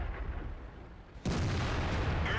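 A KV-3 heavy tank fires its main gun in World of Tanks, one sudden loud boom cutting in over quiet engine rumble and ringing on afterward.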